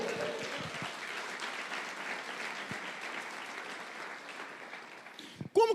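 A church congregation applauds steadily, many hands clapping in a dense, sustained wash that fades slightly before a voice cuts in at the end.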